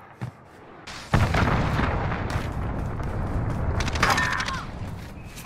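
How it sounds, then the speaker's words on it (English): A cruise missile blast in Call of Duty: a sudden deep boom followed by a long rumbling roar that holds steady, with sharper crackling near the end. "Allied cruise missile away."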